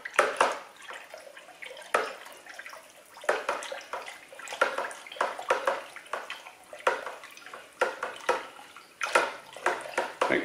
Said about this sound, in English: And give this another good stir.